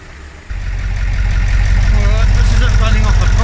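A 20-tonne bus engine runs steadily on a proper fuel pump, fuel drawn through the filter; the low idle jumps in at half a second and holds loud and even, with a faint voice under it.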